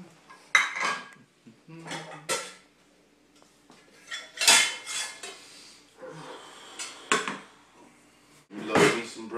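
Pans and cutlery clatter and clank in a cramped home kitchen while eggs and bacon cook on medium heat, a string of close, sharp metallic knocks and scrapes with short pauses between them.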